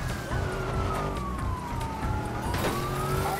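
A police siren in the video game Watch Dogs wails steadily with a falling then rising pitch, loud and close, over engine rumble and traffic noise.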